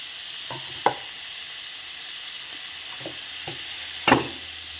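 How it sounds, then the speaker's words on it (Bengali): Chopped tomatoes tipped into a hot pan and frying: a steady close sizzle with a couple of soft clunks from the pan and spoon, no voices. "কুচিয়ে রাখা টমেটো দিয়ে দিলাম"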